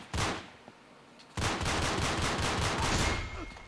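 Rapid automatic gunfire from a free-for-all multiplayer match of Uncharted 3 in the Yemen map, a short burst followed by a sustained loud volley of dense, rattling shots.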